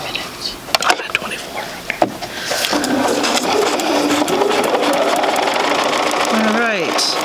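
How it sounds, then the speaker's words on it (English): A sewing machine stitching a quilt block, a steady whirring motor hum that starts after a few seconds of handling noises and keeps running, with a person's voice over it. "now we're going to hold that in place and sew from the corner this time."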